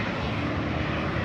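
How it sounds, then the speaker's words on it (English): A Boeing 757 airliner takes off at LAX, its engines giving a loud, steady, broadband roar that holds without a break. "Look at that 757 on the south, just going up like a rocket"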